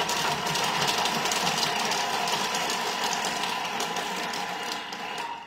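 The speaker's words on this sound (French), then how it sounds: "On va hacher ça 5 secondes vitesse 5 avant de rajouter la viande." A food processor runs at speed 5, chopping herbs, garlic and tomatoes with a continuous, loud whirring and rattling motor drone for about five seconds before winding down.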